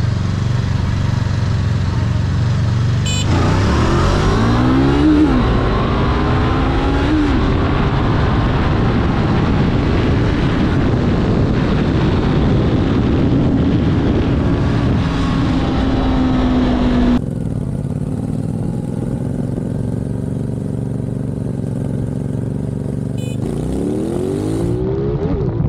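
A 2023 CFMOTO 450SS and a Honda CBR500R motorcycle drag racing: a loud, sustained engine roar with rising and falling revs through gear changes, close by, a sudden drop in level, then engines revving again, with no talk.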